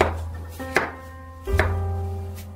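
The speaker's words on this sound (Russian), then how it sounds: "Очищенные яблоки нарезаем дольками." Peeled apples being chopped into wedges on a board: three distinct knife strikes, sharp and close, spaced irregularly, with a low hum underneath.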